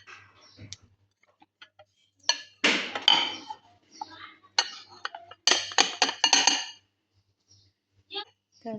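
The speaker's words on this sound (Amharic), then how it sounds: "ከዛ ልክ እንደ መግሉባ ሳህን እዚህ ጋር ገለብጣለሁ ማለት ነው ሳህኔን" A ceramic plate is flipped over onto a kitchen counter, giving a few short clinks and clatters among scattered handling noises, with no talking.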